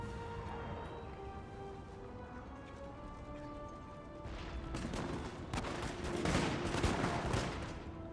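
Musket volley fire in the Napoleonic strategy game Napoleon Total War: a dense crackle of many shots over a sustained battlefield din, swelling in the second half with bursts of overlapping reports.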